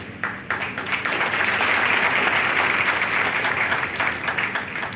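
Convocation ceremony audience breaks into sustained, dense applause that swells after a brief start and holds steady at a loud level from a large crowd, with no talk over it.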